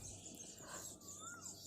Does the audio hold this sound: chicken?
no